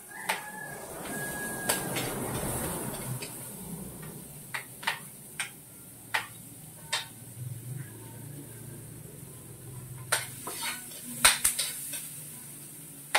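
Onion, tomato and ginger hit a pan of browned garlic, with a soft sizzle early on and then a series of sharp utensil clicks and taps against the pan, fairly quiet and close.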